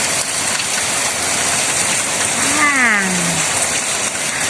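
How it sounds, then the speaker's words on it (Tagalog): Heavy rain pours down in a dense, even roar that stays loud and close throughout, with a brief rising and falling whistle-like tone in the middle. "Yeah, with a heavy rain"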